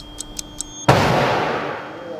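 A car airbag deployed by remote trigger goes off in one loud, sharp blast after three short beeps, followed by a long, fading rush of noise.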